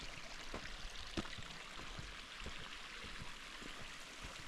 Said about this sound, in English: You see the little water creaking down the side here.